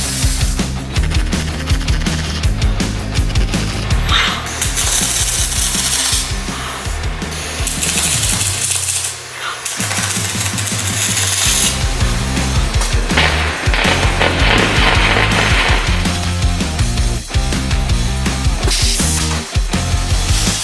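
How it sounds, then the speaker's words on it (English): A Yaskawa arc welding robot works in an automated cell with automatic fixtures and clamping, giving a loud, continuous crackling buzz with a few brief breaks over about twenty seconds, with no voices. "Yaskawa arc welding robot."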